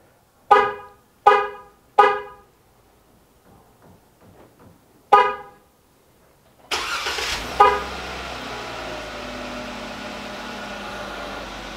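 A Jeep Wrangler JK fitted with a remote starter chirps its horn several times in sharp, evenly spaced beeps, then the engine cranks and catches. It settles into a steady close idle with one more chirp over the running motor.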